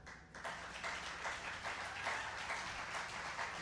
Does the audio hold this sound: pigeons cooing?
no